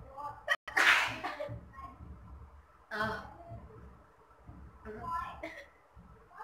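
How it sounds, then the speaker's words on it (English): A sharp, explosive sneeze brought on by chili powder bursts out near the start, followed by a couple of softer breathy sneezes or sniffs, with a few lighter breaths between. "we are about to be 5 minutes sneezing continuously"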